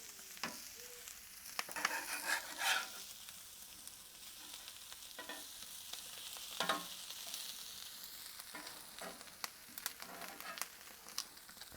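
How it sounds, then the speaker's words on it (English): Potatoes frying in beef fat on a Kamado Joe Classic II grill give a steady crackling sizzle, with scattered sharper pops and a few scraping bursts as they are turned. "we're going to flip all these lovely potatoes. Crisping up nicely."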